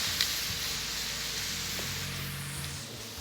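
A picanha roast sears on a Camp Chef Sidekick with a loud, steady sizzling hiss close up, unbroken throughout with a small pop near the start and no voices.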